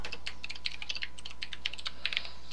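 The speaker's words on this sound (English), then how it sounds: "I hear that typing." Rapid computer keyboard typing in irregular bursts of clicking keys, fairly close and steady, with no voices over it.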